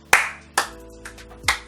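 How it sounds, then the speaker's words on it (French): A few sharp hand claps ring out close and alone, spaced irregularly, with quiet in between. "Au contraire, moi je vous applaudis."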